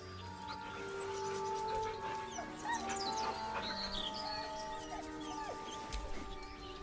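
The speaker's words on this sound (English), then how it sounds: "The dog whimpers nervously, as if to urge you on." A dog whimpering nervously in the video game Baldur's Gate 3, thin, high whines and squeaks repeated over several seconds against a soft background ambience, with no talking.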